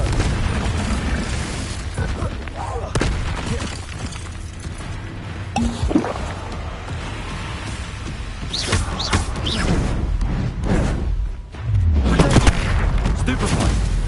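Repeated spell-casting in the Hogwarts Legacy video game, with the Confringo fire curse among them: bursts of booming, blast-like impacts and magical effects over about fourteen seconds, mixed with shouted incantations and voices.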